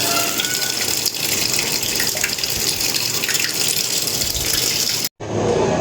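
Tap water gushes steadily into a sink during washing up, a loud continuous stream that cuts off briefly near the end and then resumes.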